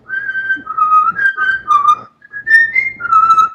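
A clear, close whistled commercial jingle melody with lively pitch changes, carried in continuous phrases with one short break.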